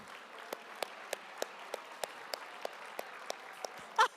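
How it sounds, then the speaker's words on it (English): At a YMCA Key Leaders luncheon, hands clap for Southwest Airlines in quiet, sparse, evenly spaced claps, about three per second, ending in a short louder burst. "Can we all give Southwest Airlines a round of applause?"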